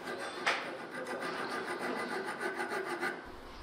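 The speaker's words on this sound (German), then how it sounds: "Wir feilen jetzt am Kasten die Fasson, quasi die Form fertig und polieren den gleich aus von Hand." A hand file rasping over the metal action of a hunting rifle as it is shaped to its final form, steady close strokes repeating in an even back-and-forth rhythm.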